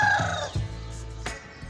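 An Aseel rooster crows close by in a village, its call sliding down in pitch and trailing off, followed by a low rumble and a short thump.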